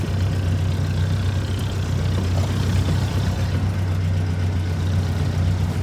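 A 1962 Jeep M170 ambulance, freshly fitted with a replacement engine and driven with a manual stick shift, gives a steady low engine drone and cabin rumble, close and continuous with no voices.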